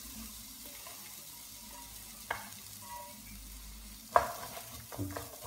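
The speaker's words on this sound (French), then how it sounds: "je fais revenir mes oignons." Chopped onions saute in hot oil in a pan for lasagne, giving a quiet, even sizzle broken by a few utensil scrapes and taps.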